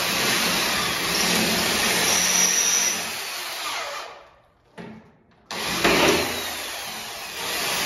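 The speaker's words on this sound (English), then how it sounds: "so I use the drill" A power drill runs with a loud, steady whir for several seconds while installing a bathroom door, stops, gives a short burst, then starts up again.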